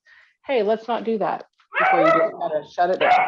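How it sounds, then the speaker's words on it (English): A pet dog lets out short yips and whimpering barks close by, mixed in with a person talking over the noise. "That's my dog. She's telling me it's time to hush up now."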